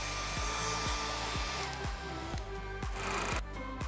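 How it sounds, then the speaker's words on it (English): A blow dryer runs steadily and loudly to dry watercolor paint, its constant airy roar joined by regular low knocking thumps roughly every half second. "I got my blow dryer here."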